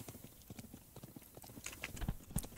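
Horses of a band of horsemen in the video game Thronefall, hooves clip-clopping in quick, uneven steps at moderate distance, with a couple of heavier thuds near the end.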